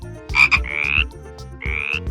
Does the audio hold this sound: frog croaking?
yes